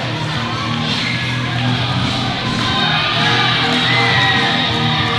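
A wrestling crowd in Salisbury at an NECW event roars for the entrance of heavyweight champion Hurricane John Walters, a loud, sustained wash of cheering and shouting over tonal entrance music, building slightly toward the end.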